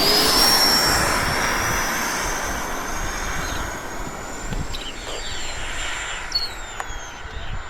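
An E-flite RC model jet plane flies overhead, its steady, high-pitched turbine whine loud at first and then slowly fading as it moves away, with no talk.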